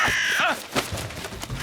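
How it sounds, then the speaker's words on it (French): A loud, harsh crow caw from an animated cartoon rings out close by, then fades into quieter rustling noise. "Corbeau!"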